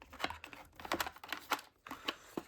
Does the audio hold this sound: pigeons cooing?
no